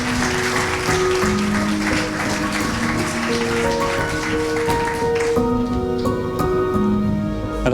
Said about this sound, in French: on accueille Célia sous un tonnerre d'applaudissements.